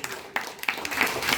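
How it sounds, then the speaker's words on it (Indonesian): Applause from the audience at an engagement ceremony: a brief burst of dense, fairly close clapping that swells slightly toward the end. "Kita beri tepuk tangan dulu"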